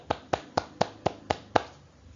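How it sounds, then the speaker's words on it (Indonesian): A class of students claps in a quick, evenly spaced rhythm, seven sharp claps close by and moderately loud, with no talking. "Tepuk tangan."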